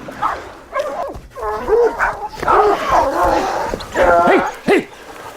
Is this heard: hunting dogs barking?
yes